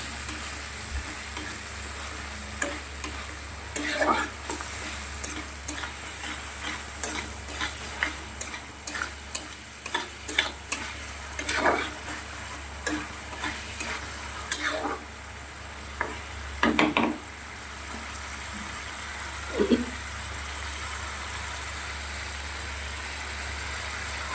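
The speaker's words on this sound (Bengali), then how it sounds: "মশলাটা একটু বেশ কিছু সময় কষিয়ে নেব, জিরে আর ধনে পেস্ট করে দিয়ে।" Masala sautéing with cumin and coriander paste in a pan: continuous sizzling under frequent spoon scrapes and taps, a low steady hum beneath, no talking.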